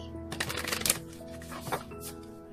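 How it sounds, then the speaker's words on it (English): A deck of cards is shuffled close up, a quick riffling flutter followed by a second shorter burst of cards snapping together, with faint background tones and no talking. "One more shuffle, they request."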